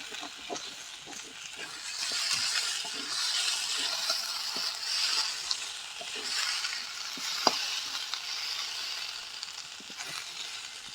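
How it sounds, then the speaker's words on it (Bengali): Chicken feet fry lightly in a pan with a continuous moderate sizzle, joined by occasional soft scrapes and taps of a spoon stirring them. "এর পাগুলোকে হালকা ভাজবো।"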